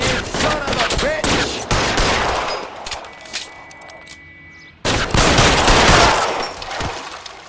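Bursts of heavy gunfire in the video game L.A. Noire, rapid loud shots and clatter that drop out into a quieter pause before another intense volley resumes.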